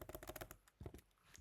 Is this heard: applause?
no